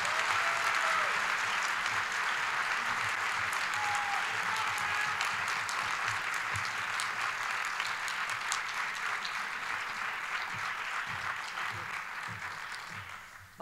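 An audience at an Athena Leadership Award ceremony applauds the award recipient with sustained, dense clapping that stays loud for over ten seconds and fades away at the end.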